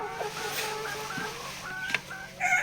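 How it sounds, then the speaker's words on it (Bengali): Layer hens clucking close by in a poultry setting, several overlapping short calls over a steady background murmur of the flock, with no speech. "এগুলো হচ্ছে লেয়ার মুরগি"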